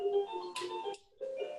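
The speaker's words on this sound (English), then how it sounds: "The baby's playing with her jumper and it has a lot of music." A baby's musical jumper toy plays a bright electronic melody with steady sustained tones, a short pause near the end before the tune resumes, fairly near and moderately loud with no talking.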